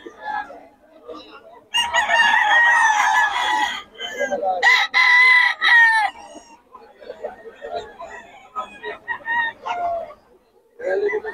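A fighting rooster crows loudly twice in long, strained calls, with softer clucking and chatter from nearby birds and someone talking around them.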